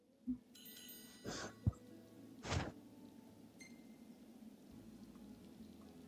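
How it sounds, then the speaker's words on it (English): Rain falling on a campsite in the video game Final Fantasy XV makes a steady soft hiss, broken by a few brief louder splashes and bursts over about six seconds. "Camping sucks when it rains."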